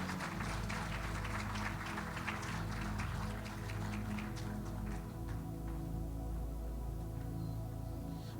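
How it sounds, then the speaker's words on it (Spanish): A church congregation claps in a dense patter over loud, sustained organ-like music, the clapping thinning out and fading after a few seconds while the music carries on. "Le damos un aplauso"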